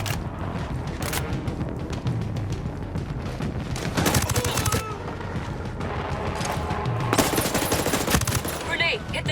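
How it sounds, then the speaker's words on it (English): Automatic turret fire in Ghost Recon Breakpoint: loud, dense bursts of rapid gunfire rattle continuously, with heavier cracks and booms standing out, under a busy combat mix with voices partly buried. "auto turret"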